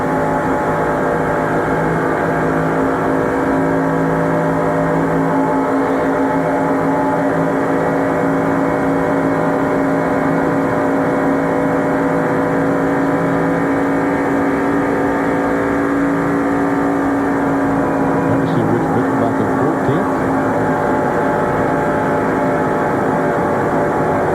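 Mark Martin's stock car roars steadily at racing speed in the 1994 Pepsi 400, a loud, sustained engine drone with a constant pitch and no pauses, other cars' engines blending in close by.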